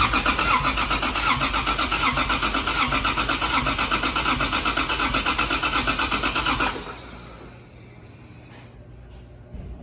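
A Nissan S14 240SX fitted with a 1.5JZ engine runs loud and steady for several seconds before abruptly shutting off, leaving a quiet tail with faint rustling.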